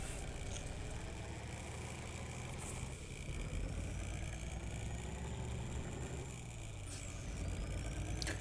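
A straight-piped 600-horsepower ISX15 engine in a W900L dump truck pulling an Eager Beaver trailer in American Truck Simulator drones with a steady, rumbling exhaust note, quiet overall and continuous, with no speech.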